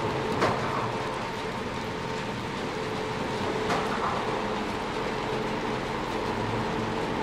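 A train passes in the distance in the video game Little Nightmares 2, a steady low rumble and rolling hum lasting throughout at a constant, moderate level, with no voices.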